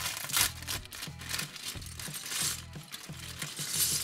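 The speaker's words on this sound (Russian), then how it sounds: "Высыпаем все запчасти." Small plastic toy Transformer parts poured out of a bag, giving a few light rattling clatters over steady background music.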